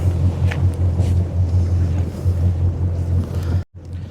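A Crownline 260 EX boat runs on open water with a steady low engine drone, wind buffeting the microphone and water rushing past, broken by a brief dropout near the end.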